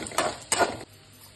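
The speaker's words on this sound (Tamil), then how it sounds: "இப்போ வெங்காயம் போட்டுருக்கோம் வெங்காயம் கருவேப்பிலை போட்டு தாளிக்கிறது" Two quick scraping stirs sound in a metal pan as onion and curry leaves are tempered, sharp and close, followed by a soft background hiss of frying.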